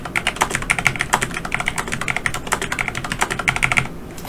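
Numbers being entered on a computer keyboard, a close, rapid run of crisp key clicks in uneven bursts that stops abruptly near the end.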